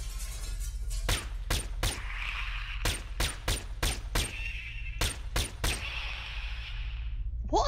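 Weapon fire from a first-person shooter arena game, a series of sharp, loud shots spaced irregularly, some in quick pairs and triplets, over a low steady hum, ending with a brief higher sound.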